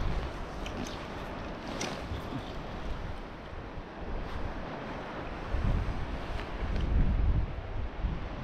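Wind blows steadily onshore across a coast during a fishing session in heavy swells and gusts, a broad rushing roar with microphone buffeting and louder gusts near the end, no voices.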